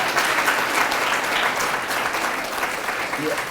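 Steady, dense audience applause at a Tamil literary humour talk fills the space evenly, sustained and fairly loud from start to finish without pause.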